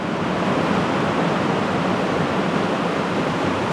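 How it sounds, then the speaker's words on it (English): Heavy rain pouring steadily outdoors, a dense, even hiss of downpour with no breaks, fairly loud and close, nothing else standing out. "Can you hear the rain?"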